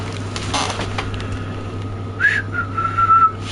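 Someone with dry lips tries to whistle, producing a breathy, airy puff before a thin, wavering whistle tone that sputters in short, faint bursts close by.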